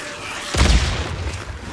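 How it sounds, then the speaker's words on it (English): A pair of pipe bombs go off together in Days Gone, one sudden heavy boom with a deep low-end thump that rolls out and fades over a second or so. "Double explosion."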